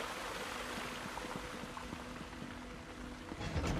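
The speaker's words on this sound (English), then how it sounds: "I can hear water, but I don't see a waterfall." Steady rushing water like a waterfall or stream in a video game, a soft, constant wash of splashing noise with a faint low hum underneath, fairly quiet and continuous.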